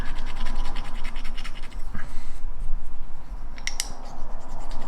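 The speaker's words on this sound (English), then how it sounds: "It's supposed to be really good for polishing plastic." Plastic tank model parts are buffed with polishing sticks, giving close, rapid scratchy rubbing strokes in bursts with brief pauses, loud and alone.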